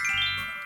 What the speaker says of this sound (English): I think that's my doorbell